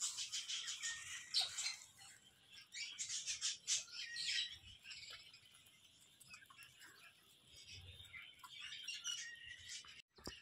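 Pigeons kept in a loft, with a young squab among them, give bursts of chirping and cooing calls through the first half, then quieter rustling and soft calls, no talking.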